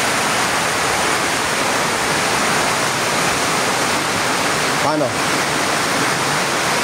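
Floodwater rushes loudly and continuously through a flooded area in Valenzuela, a dense steady roar, with a brief spoken word partway through.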